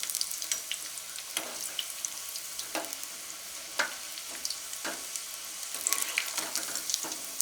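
Pieces of colocasia (cheppankizhangu) fry in hot oil with a soft, continuous sizzle, broken by sharp crackles and pops scattered irregularly throughout, close and fairly quiet.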